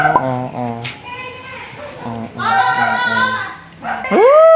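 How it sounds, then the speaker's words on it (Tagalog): Several dogs bark and yip close by in quick, overlapping bursts, ending in a long rising whine, in a busy market area in Divisoria, Manila. "Yung mga aso namin na ang kukulit."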